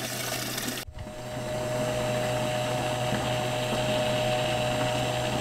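Livewell water pump in a DIY-converted jon boat runs as a steady, close mechanical hum with a low drone and watery hiss, briefly interrupted by a clunk near the start, then continuing evenly.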